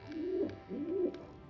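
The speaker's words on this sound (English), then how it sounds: "Taube." A pigeon in the adventure game Anna's Quest gives two soft, rounded coos in quick succession, close and clear against a quiet background with no speech.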